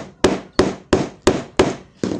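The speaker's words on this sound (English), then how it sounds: "you use your hammer to hammer it down" A hammer strikes a metal bag clasp down against a table six times in a steady rhythm, each blow a sharp, close, loud knock.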